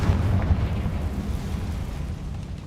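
Confringo blasting spell exploding in Hogwarts Legacy, a loud, deep rumbling boom that slowly fades over a couple of seconds, with no talk over it.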